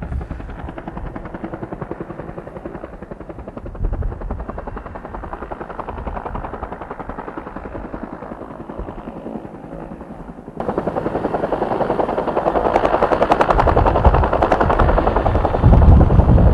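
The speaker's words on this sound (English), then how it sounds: "I think it's a Bell 212 or a Bell 205" A Bell 212 helicopter's rotor thumps steadily and loudly throughout over a 2005 wildfire, the chopping growing heavier and closer partway through, with no voices.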